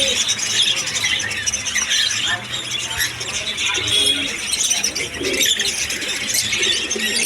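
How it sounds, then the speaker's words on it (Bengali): A crowd of budgerigars and other cage birds chirps and squawks continuously at a bird market, with busy, overlapping high calls and a faint background murmur. "এখানেও বাজরিকা রয়েছে অনেক"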